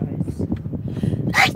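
A person sneezes once at close range near the end, a sharp burst following voices talking in a supermarket queue.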